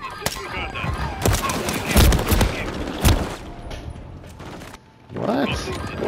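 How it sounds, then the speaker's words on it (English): A grenade explodes in Call of Duty: Modern Warfare III team deathmatch, with a sharp blast landing among bursts of gunfire and thuds, close and loud, while a player talks over the action. "Grenade out!"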